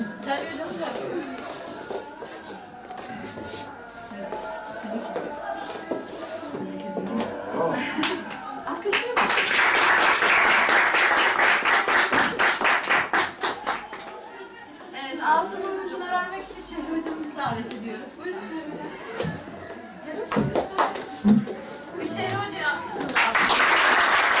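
A crowd at a Quran course report-card ceremony applauds teachers in several bursts: loose claps under talk, then a loud sustained round in the middle, then further rounds of clapping mixed with voices and chatter.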